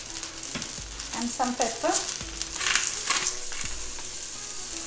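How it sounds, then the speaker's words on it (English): Broccoli sautés over a medium flame in a pan, a steady close sizzle with occasional stirring scrapes, while a person speaks briefly over it. "So it's been exactly 3 minutes that I've been sauteing the broccoli."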